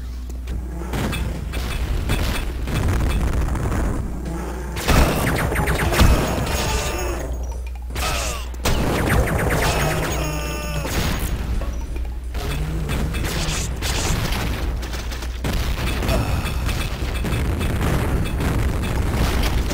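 Dense, continuous chaos of explosions and mechanical clatter from Duke Nukem 3D, with repeated booms and crunching blasts layered over a steady low rumble and no pauses.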